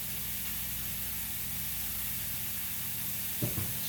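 Pancetta frying in a pan, giving a steady, close hiss and crackle of sizzling fat under a low constant hum, with a brief knock or stir near the end and no talking.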